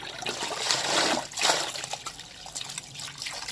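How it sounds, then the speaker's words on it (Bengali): Tap water runs and splashes while small perch-like fish are rinsed clean for cooking, an uneven close trickle with a couple of louder gushes. "মাছগুলো সব ভালো করে ধুয়ে নি"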